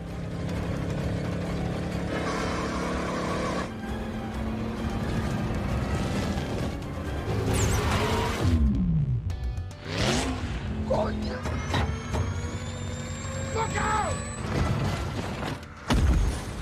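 Dom's racing car from a street-racing film, its engine already burning, roars at full speed with dense, sustained revving, pitch sweeps as it passes and brief tire squeal amid a busy, loud soundtrack.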